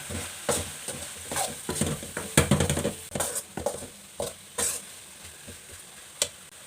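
Chilli and coriander masala sautéed in a pan for a jackfruit seed curry, with a spoon scraping and stirring in irregular bursts over a continuous close sizzle.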